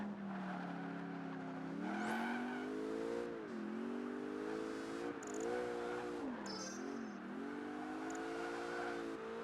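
A Koenigsegg in Project Gotham Racing 3 races around the Las Vegas circuit, its engine whine close and loud, rising and dipping steadily through gear changes and corners, with brief tyre squeals and no talk.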